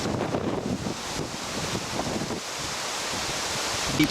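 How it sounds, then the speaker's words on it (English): Gusty storm wind during Hurricane Katrina buffets the microphone outdoors, a continuous broadband roar with rising and falling surges and no voices. "There's some pretty good gusts."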